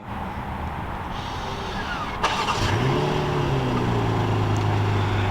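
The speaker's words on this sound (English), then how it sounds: "we can fire this up with the remote start option" A 2023 BMW X6 xDrive40i starts by remote: a quiet background, then a brief starter crank and the engine catching with a rising rev that settles into a steady, nearby idle hum.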